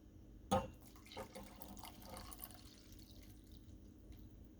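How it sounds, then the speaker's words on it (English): Water poured into a pot to make a henna hair pack, opening with a brief splash and then a soft, steady trickle and dripping. The sound is close and fairly quiet, with no talking. "Let me put the water now."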